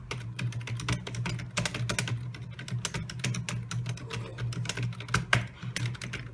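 Typing on a Logitech K230 wireless membrane keyboard, a steady run of close, crisp key presses with uneven rhythm and a low hum beneath.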